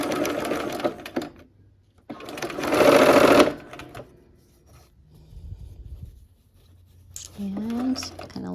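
A sewing machine stitches the final seam of a barn quilt sampler block in short bursts, a steady whirring run in the middle between quieter handling noises, with someone talking at times.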